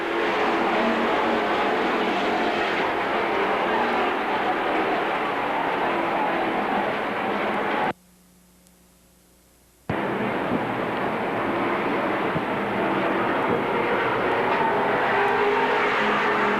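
Race cars in a 12-lap Charger division event at Seekonk Speedway in 1984 roar off the start together, a loud, sustained engine drone that drops out briefly midway, then resumes at full volume.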